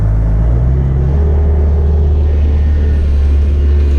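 Cars passing on a snowy Minnesota road, heard as a steady, loud low rumble of traffic and tires with a vehicle swelling past close by and no voices.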